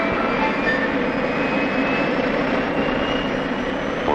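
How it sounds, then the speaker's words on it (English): Boeing 707 jet aircraft engine roaring in a steady, loud, broadband rush with a faint high whine, continuous throughout. "it's the simplest aircraft engine ever devised"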